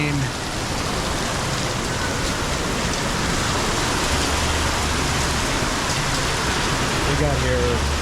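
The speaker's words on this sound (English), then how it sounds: "In the rain." Steady heavy rain pouring outdoors during a road trip in a Land Rover Defender 110, a dense continuous hiss with low rumbling underneath and faint voices in the background.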